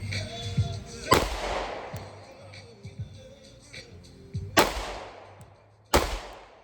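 Three sharp pistol gunshots at a shooting range, loud and close with ringing decay, spaced irregularly over several seconds, with quieter handling sounds and low background noise between shots.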